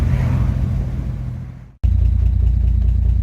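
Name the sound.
car engine idling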